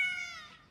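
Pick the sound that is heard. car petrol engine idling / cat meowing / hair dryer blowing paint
cat meowing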